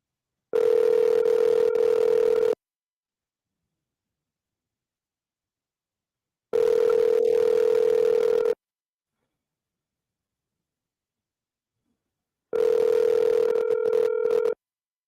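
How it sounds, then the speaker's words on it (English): A telephone ringback tone sounds as an outgoing call waits for an answer. It plays three steady two-second rings separated by silent gaps, clear and alone. "Let me see if he go pick up this phone."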